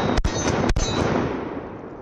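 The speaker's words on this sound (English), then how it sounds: "I've never shot a 12 gauge shotgun that feels like that." A 12 gauge semi-automatic shotgun fires in quick succession, two or three loud, sharp blasts close by, each followed by a long rolling echo.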